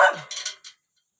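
A dog gives a few quick, sharp barks close by, a short burst of yips that ends abruptly into silence.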